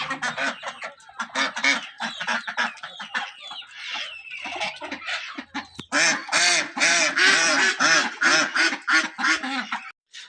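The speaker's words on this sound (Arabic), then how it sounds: "النصيحة لحد لا يشتري من هذه النوعية البط، لأن حيل مزعج" Ducks quack loudly and persistently up close, overlapping harsh honking calls in rapid bursts that grow denser and louder in the second half, with no talking.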